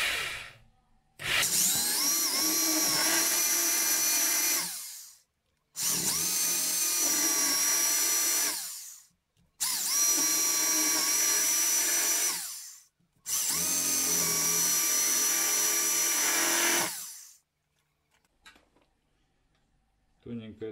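A rotary hammer drill bores into a wall for TV socket boxes, running loud in four long bursts of several seconds each with brief pauses between, close and grinding.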